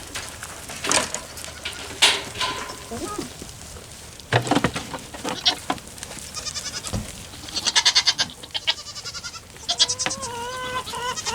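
Goats bleating in a herd around a newcomer in a barnyard pecking order, with several overlapping wavering bleats near and far, scattered rustling and faint bird calls between them.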